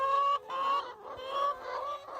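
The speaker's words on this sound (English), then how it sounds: "This is our one rooster right here." A rooster clucking in a few loud, drawn-out bursts close by, separated by short pauses.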